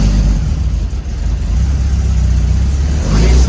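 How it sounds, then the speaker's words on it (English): Classic Mini car engine running and revving, a loud close low rumble that holds steady and then swells near the end, with no talking over it. "Now let's get the engine started."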